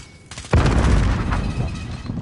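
A grenade blasts in a PS4 shooter, one loud booming explosion that hits hard and then rumbles and crackles for over a second and a half, with no talk over it.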